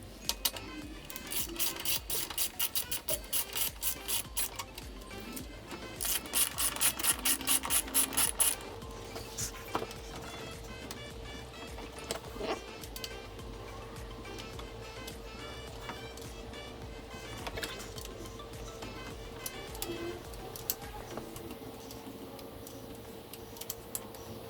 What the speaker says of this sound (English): So let's start by removing these two 12mm bolts, and then we'll get an Allen key and remove this as well.